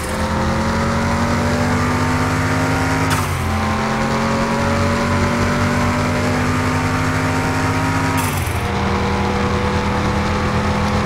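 A car engine revs hard in Car Mechanic Simulator 2021, climbing in pitch through the gears with two sharp shift drops, loud and continuous from start to finish, with no voices.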